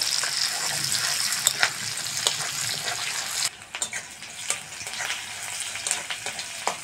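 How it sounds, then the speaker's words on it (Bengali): Chopped onions fry in a pan with a busy, continuous sizzle, broken by stirring scrapes and clacks; the sizzle drops briefly midway, then carries on. "কুচনো পেঁয়াজ দিয়ে দেবো। পেঁয়াজটা ভালো করে ভেজে নেব।"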